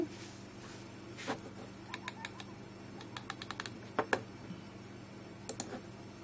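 Scattered key clicks from a computer keyboard, typed in short bursts and single taps, fairly close over a steady low room hum, with no voices.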